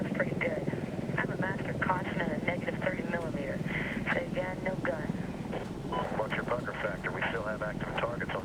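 AH-64 Apache helicopter in the 2010 Medal of Honor video game keeps up a steady rotor and engine drone while someone talks over it nearly the whole time, with radio chatter mixed in.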